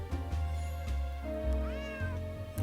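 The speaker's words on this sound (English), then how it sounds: "And there's the cat way up there." A single rising meow from a cat in a Nancy Drew game sounds over steady jazzy background music, moderately clear with no voices.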